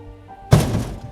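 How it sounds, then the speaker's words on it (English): A heavy door slams shut in an audiobook scene, giving one loud, close thud with a short rumbling decay, heard alone with no talk. "The door slams shut with a loud bang"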